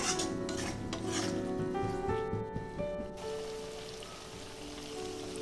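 Spice paste with green chillies and tomato stirred and fried in a pan for fish kalia, a steady rasping scrape and sizzle close up, with a background tone alongside.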